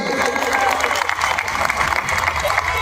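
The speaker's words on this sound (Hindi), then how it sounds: "जोरदार तालियां मोदी के लिए बजा दीजिए भाई" A political election rally crowd in Delhi claps and cheers in a dense, steady roar that fills the whole stretch, with voices mixed into the noise.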